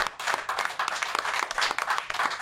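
Applause from a live audience at a Quebec sports talk show taping, a steady wash of many hands clapping through the whole stretch, moderately loud and dense, with no voices on top.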